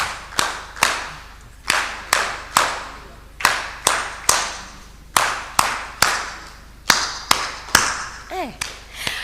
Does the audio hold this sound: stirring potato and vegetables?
no